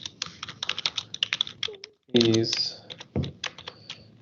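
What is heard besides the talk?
typing code on a computer keyboard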